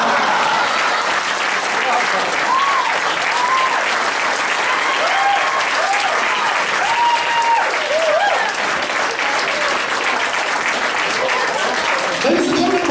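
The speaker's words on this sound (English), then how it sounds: "I think you should all applaud him" A roast audience claps in sustained, even applause lasting the whole stretch, with a few whoops and cheers rising over the dense patter.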